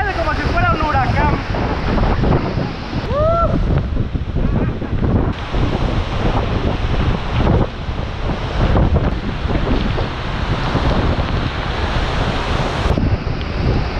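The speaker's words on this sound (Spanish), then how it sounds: "El aire está muy fuerte, parece como si fuera un huracán." Strong, gusty wind roars against the microphone at the Misol-Ha waterfall in Chiapas, a constant loud rush mixed with the waterfall's spray. A voice speaks briefly near the start.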